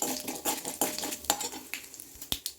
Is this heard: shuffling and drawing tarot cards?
no